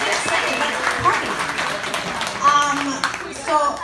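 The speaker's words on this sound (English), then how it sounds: "Give yourselves a round of applause." Comedy club audience at Laffs Comedy Cafe applauding and cheering in a steady, dense wash of clapping, with a few voices and whoops rising near the end.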